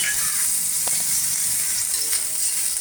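Chopped tomato and spices sizzle steadily in hot oil in a pan while cooking a spinach and paneer dish, a continuous close hiss broken by a few faint stirring clicks.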